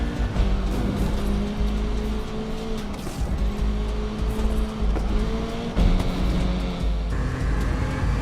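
A racing car engine in the racing video game Need for Speed Unbound whines and shifts pitch through repeated gear changes, loud and steady, with occasional tire noise and no talking.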